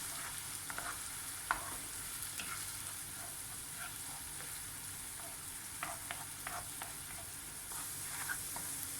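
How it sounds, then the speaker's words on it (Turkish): Grated onion sautés in a pan, a soft, steady frying hiss with scattered light stirring clicks, quiet and close, no voices. "Ve şöyle pembeleşinceye kadar güzelce bir kavuralım"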